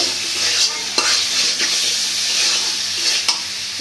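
Ground turmeric, chili, coriander and cumin with ginger-garlic paste and salt stir-fried in a pan, a close, continuous sizzle with soft scraping strokes repeating about every second or two.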